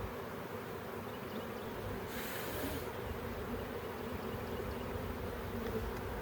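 A swarm of honey bees hums in a continuous, dense buzz close by near a bee yard, steady and fairly faint with no talking.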